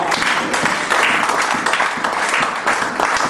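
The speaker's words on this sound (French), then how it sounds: "que tous les saints acclament pour le roi des rois" A church congregation bursts into steady applause during a worship service, dense and continuous clapping filling the room for a few seconds with no talking over it.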